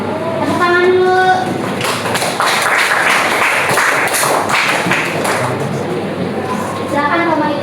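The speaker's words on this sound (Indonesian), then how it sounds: "Tepuk tangan dulu." Students applauding in a Grade 10 classroom discussion lesson: a dense, crackling wash of many hands clapping, filling most of the stretch, with brief voices audible at the beginning and end.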